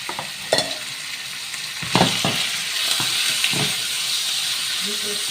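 Hot oil hisses and sizzles steadily in a pan over high heat while cooking chicken for a creamy pink sauce pasta, with a few sharp clinks and stirring scrapes breaking through the continuous frying noise.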